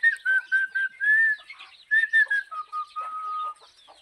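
Chickens and small chicks on a hen farm, with high, thin chick peeps and whistling calls in quick repeated bursts close by, no talking.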